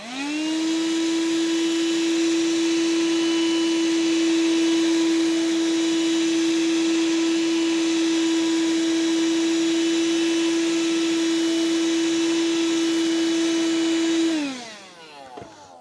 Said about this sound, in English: Let's try it with the upholstery tool, which should intensify the suction a bit.